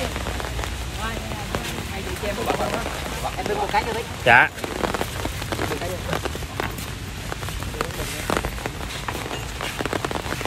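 Heavy rain pours down during a rural storm with strong wind, a steady close hiss that fills the whole stretch. A person speaks briefly under it, and one sharp louder sound stands out partway through.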